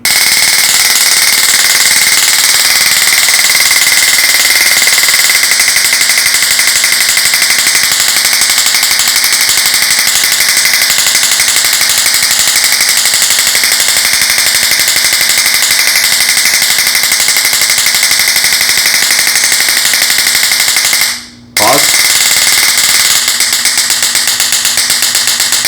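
A civilian Taser device runs its full cycle as a loud, rapid, unbroken electric crackling that rattles on for about twenty seconds, briefly cuts out near the end, then resumes.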